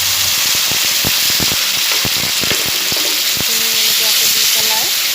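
Spice paste is added to hot oil, a loud, close frying hiss broken by a quick run of sharp sputtering pops, with a voice speaking over the later part.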